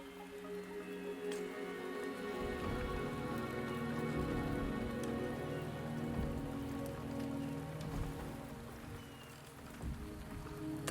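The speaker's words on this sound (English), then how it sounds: "The rain is subsiding, and the sky will soon clear." Rain falling steadily in the video game Wuthering Waves, an even, continuous patter on surfaces with faint drips, heard alone and moderately loud throughout.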